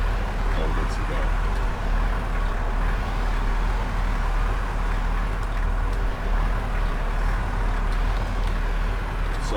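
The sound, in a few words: car engine running in a video game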